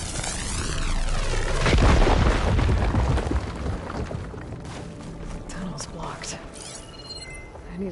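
In Horizon Forbidden West, a fire gleam is blown up with a deep, rumbling boom that swells over a couple of seconds and then tapers into crackling debris and lingering game effects.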